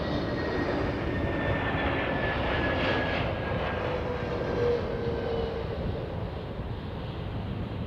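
An Airbus A380 landing on runway 09 and braking hard with its brake-to-vacate system, a steady broad roar of engines and rushing air holding close and loud throughout with a faint whine riding on top.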